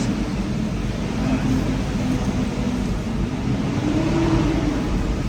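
Loud motorcycle engines and road traffic roar steadily and close by in a continuous, noisy wash of engine drone and passing vehicles.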